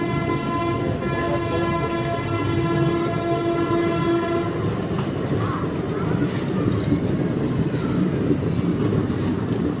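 A Howrah-Haridwar Doon Express pulls away from Dehri-on-Sone station, its long sustained horn blaring up close before giving way to a steady rumble and rattle of rolling wagons.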